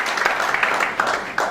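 Audience applause at a business event in Morocco unveiling member companies of the third ELITE Maroc cohort, a brief dense burst of clapping hands with irregular sharp claps, fairly loud and close, with a voice mixed in.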